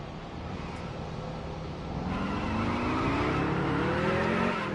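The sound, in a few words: race car spinning its tires in the NASCAR Heat Evolution video game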